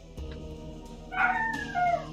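A dog howling indoors, a couple of short rising and falling wails close by, moderately loud over a steady background hum.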